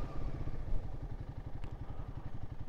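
Royal Enfield Guerrilla 450 motorcycle on a ride, its single-cylinder engine thumping steadily at low revs, close and continuous with a rhythmic pulse.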